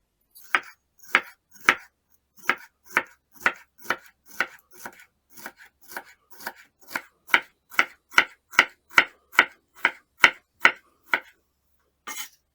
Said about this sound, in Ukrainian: Болгарський перець почистити від насіння. нарізати смужками.